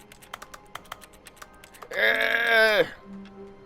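Rapid computer keyboard clicks from The Stanley Parable Ultra Deluxe, a quick irregular series of light taps for about two seconds, then cut off by a loud bleating, groaning tone before near silence.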